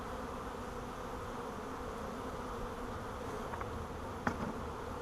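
A honeybee swarm of roughly ten thousand workers, drones and a queen, set on newly drawn white comb for installation, hums as a steady, dense buzz throughout, with a couple of faint brief clicks near the end.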